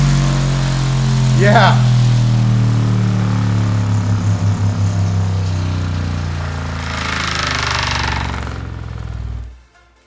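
A bass sweep plays through a B2 Audio RAVE 12-inch shallow-mount 500W RMS subwoofer, giving a loud, deep rumble with a rattling buzz midway. One voice shouts early on, and the sound cuts off abruptly at the end.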